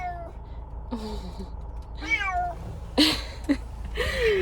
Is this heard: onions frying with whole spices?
no